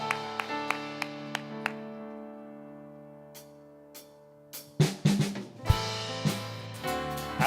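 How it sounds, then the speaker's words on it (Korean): A church congregation at a Korean Sunday communion service claps over sustained organ or keyboard chords, starting as sparse, evenly spaced single claps and swelling near the end into a louder burst of mixed applause. "주님께 먼저 영광과 박수 올리며 나가시겠습니다"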